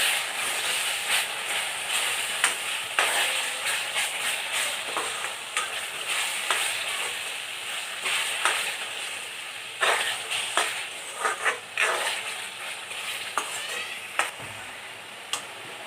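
Turmeric, chicken masala and ground cumin fry in a pan for chicken curry, with a steady sizzle under repeated scraping strokes of a stirring spoon. The sound is near and even, with no talk.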